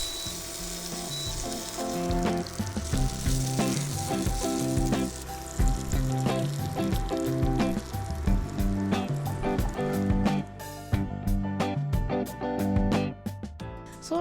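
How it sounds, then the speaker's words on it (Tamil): Hot tempering poured into a vatha kuzhambu tamarind gravy with nungu, crackling and sizzling loudly and continuously, with rapid popping bursts near the end. "இப்போ நம்ம குழம்புல ஊற்றிக்கலாம்."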